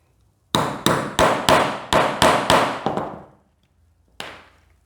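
Hammer blows driving a hole punch through leather for a bag, eight sharp, loud strikes in a steady rhythm followed by a pause and one final hit, each ringing out briefly.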